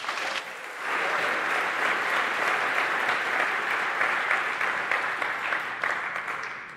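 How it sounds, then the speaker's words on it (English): A conference audience at a 2022 talk on 5G OpenRAN hacking bursts into loud, sustained applause that swells after a moment, holds as a thick wash of clapping, then begins to thin out. "a big applause for Carsten Knoll."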